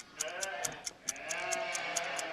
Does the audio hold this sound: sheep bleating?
yes